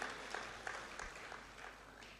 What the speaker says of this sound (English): Please, another round of applause.